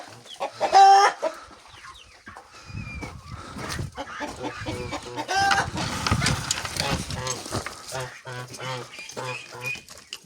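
Chickens cluck and squawk in short bursts close by in a village yard, with people talking over and between the calls.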